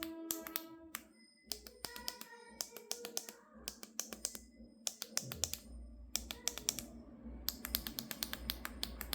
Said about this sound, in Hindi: तो ये दोनों तरफ से यदि हम साफ कर देते हैं तो इसके बाद हमारा बटन की क्लिक साउंड में भी थोड़ा फ़ायदा होना चाहिए।